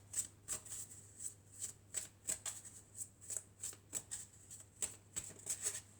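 Elf oracle cards being shuffled by hand, a quiet run of soft crisp riffles and flicks in an irregular rhythm over a low steady hum.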